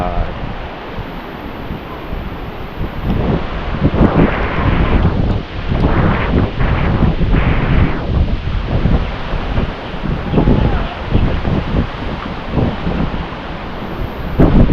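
Strong typhoon wind, heard while heavy rain pours, roars steadily and loudly right at the microphone, with gusts swelling and easing across the whole stretch and no clear voices over it.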